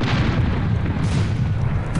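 Cannon fire in the video game Air Buccaneers comes as a heavy, low, rumbling boom that fills the moment, loud and close, with no voices over it.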